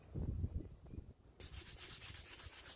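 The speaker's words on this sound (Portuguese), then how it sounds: "No final dei uma boa lixada em todo o cabo" Abrasive rubbing of sandpaper over a hand-made wooden marking gauge handle: low scuffing strokes at first, then a brighter, steady rhythmic scratching of repeated back-and-forth passes, close and alone with no voices.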